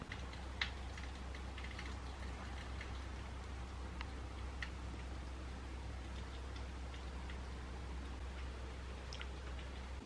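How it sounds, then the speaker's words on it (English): Steady rain falling outside, a constant soft hiss with scattered louder drips and ticks throughout, no voices. "So, currently raining"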